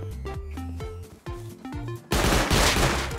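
Rapid bursts of gunfire in the survival game Rust, a close, loud string of sharp shots with short gaps, ending in a dense, noisy barrage.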